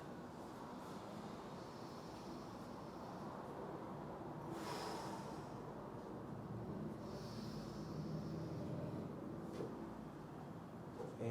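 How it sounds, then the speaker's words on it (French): Long, steady exhalation during a yoga class, a broad airy hiss lasting several seconds, with softer breaths rising and fading near the middle and toward the end over a low room hum. "J'expire."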